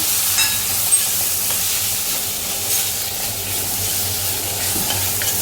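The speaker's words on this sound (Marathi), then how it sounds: "हे पूर्ण छान परतून घेऊया" Ground masala paste and tomato being sautéed in a kadhai for a black pea usal, a continuous loud sizzle with scraping stirring throughout, no voices.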